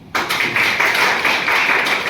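Audience applauding at a motivational business talk, a sudden onset of dense, continuous clapping that holds steady and loud, close and filling the room.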